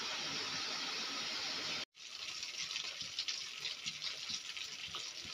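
Oil heats in a pan for a homemade hair oil, giving a steady hissing sizzle with a brief cut partway through before the crackling resumes.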